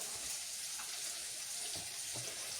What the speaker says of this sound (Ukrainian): Воду наберу.